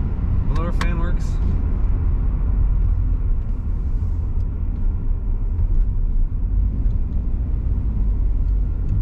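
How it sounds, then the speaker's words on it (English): Steady cabin blower fan in a 2003 Chevrolet S10 Regular Cab LS with the heat on, a constant broadband whoosh under engine rumble, with a brief voice near the start. "Blower fan works."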